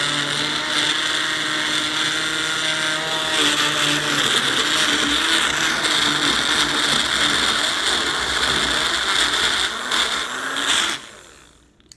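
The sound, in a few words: blender motor overheating noise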